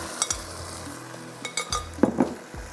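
Dal tipped into a hot garlic and onion tempering for lauki ki bhujia, sizzling steadily while a spoon scrapes and clinks against the pan in a few short bursts near the end.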